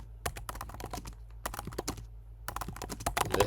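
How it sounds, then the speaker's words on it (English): Fast, irregular bursts of computer keyboard typing while writing an Etsy product listing description, with clustered keystrokes separated by brief pauses, close and clear over a low steady hum, no talking. "So I'm going to start typing."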